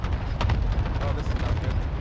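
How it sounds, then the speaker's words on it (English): A video game airstrike lands in a dense, rumbling burst of explosions, loud and continuous with deep low-end booms rolling throughout, while a player talks over it. "just got airstrike"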